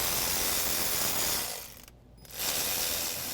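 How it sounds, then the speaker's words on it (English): A ratchet loosens an intake bolt on a Ford F-250 engine with steady, close clicking that pauses briefly partway through, then resumes. "Remove the intake bolt."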